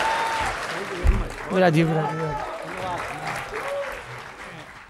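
A poet is welcomed onstage at a Hindi comedy and satire poetry gathering, and the audience claps steadily through the whole stretch while a host keeps talking over the applause.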